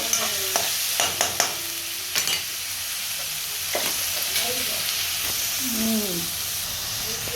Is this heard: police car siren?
no